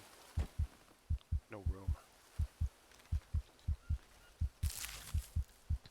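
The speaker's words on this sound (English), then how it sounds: "I'd like for that heartbeat sound to stop" A deep, thumping heartbeat in the video game Green Hell, heard as paired low beats repeating steadily, quiet and close, with a short bird call and a brief voice in between.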